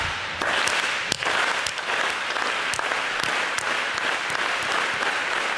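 A standing audience of teachers at a back-to-school event claps in unison, starting slow and quickening into steady, dense applause that fills the room without talk.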